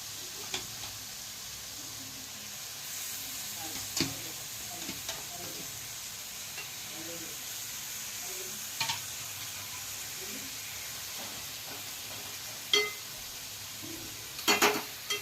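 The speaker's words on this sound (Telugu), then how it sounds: "ఇప్పుడు చికెన్ వేసుకుందాం అందులో." Chicken pieces frying in a cooked masala in a home kitchen, giving a steady low sizzle with occasional clatters of a spoon or pan. No one speaks.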